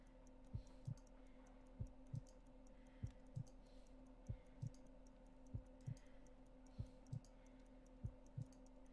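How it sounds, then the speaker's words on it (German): Faint, slow heartbeats in the Sherlock Holmes Crimes and Punishments video game: a steady series of paired low thumps, lub-dub repeating roughly every second and a quarter, over a quiet electronic hum with soft ticking above. "I need to concentrate and count the heartbeats."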